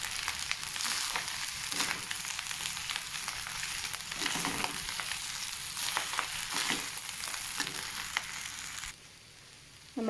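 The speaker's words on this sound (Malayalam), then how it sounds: "ഇതിലേക്ക് നമ്മൾ സ്ക്രാമ്പിൾഡ് ചെയ്തെടുത്ത് ചിക്കൻ ഇതെല്ലാം ഇട്ട് നന്നായി ഒന്ന് ഇളക്കി യോജിപ്പിക്കാം." Chicken fried rice with scrambled egg is stir-fried over high flame, a steady loud sizzle broken by repeated scraping stirs of the pan, no voices.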